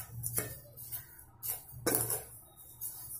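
Spoon scraping and clinking in a bowl while sugar and cardamom powder are stirred into semolina, a few distinct scrapes and knocks at moderate volume, no talk.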